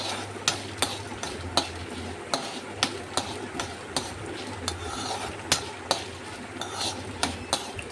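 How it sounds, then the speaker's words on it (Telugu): Chana dal and urad dal tempering frying in a pan and stirred, with regular scraping strokes roughly every half second over a steady low sizzle. "ఈ పోపు అంతా ఇలా వేగాలండి."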